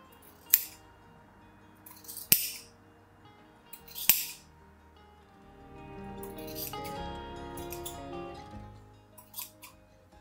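Scissors snip through the macrame fringe of a half mandala wall hanging: a few sharp, close cuts spaced seconds apart, with quiet handling noise between them and no talk.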